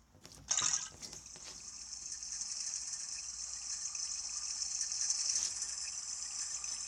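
Cartoon boiling water in the Toca Kitchen 3 cooking game, a steady hissing, bubbling wash that follows a brief splash-like burst at the start and stays even and fairly close throughout, with no talking.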